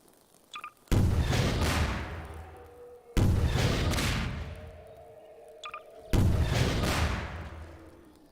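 Three loud, booming explosions in Garry's Mod go off a couple of seconds apart, each a sharp blast followed by a long rumbling decay, with faint small clicks in between.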